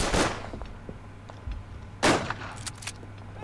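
Gunfire in the World War I shooter game Verdun, with a sharp shot near the start and a louder crack around the two-second mark, followed by a few scattered lighter reports over a low background hum.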